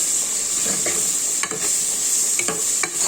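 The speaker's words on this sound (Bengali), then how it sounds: "আলু টমাটো ভালো করে ভাজা করে নিচ্ছি মশলা সহ" Potato and tomato fry with spices in hot oil for a fish recipe, with a steady sizzle throughout and a few scraping stirs of the spatula against the pan.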